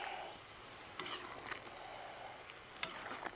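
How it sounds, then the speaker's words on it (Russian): Plov being stirred in a kazan, faint scraping and sizzling with a few light clicks of utensil against the pot, quiet and close with no talk. "Еще раз помешаем и попробуем."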